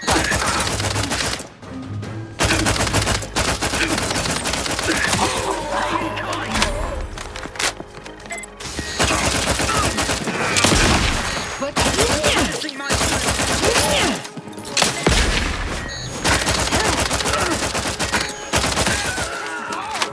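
Gunfire in the video game The Outer Worlds 2, with repeated shots and bursts running through a busy, loud combat mix while speech and music carry on throughout.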